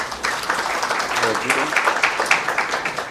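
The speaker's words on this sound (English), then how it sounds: "Maybe you can give her a better clap, please." Audience at a Transforming a Nation conference claps steadily for about three seconds, a dense spread of hands in a large room, moderately loud with murmuring voices mixed underneath.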